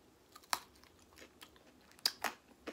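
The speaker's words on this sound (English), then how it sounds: "you hear that crunch?" Crunchy bites into keto chicken strips breaded in pork rinds, a few sharp, close crunches separated by quieter chewing.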